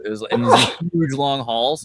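A single quick sneeze bursts out amid ongoing conversational speech, close and fairly loud, followed immediately by more talking.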